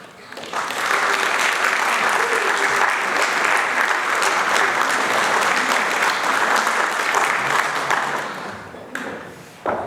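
Audience applause fills a hall at an Estonian song and dance festival, dense, even clapping from a large crowd that swells in, holds loudly for several seconds and then fades.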